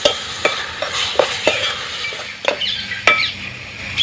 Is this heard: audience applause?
no